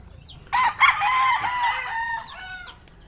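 A black Ayam rooster gives one loud, close crow lasting about two seconds, rising sharply then holding and trailing off, over quiet farmyard background with no talking.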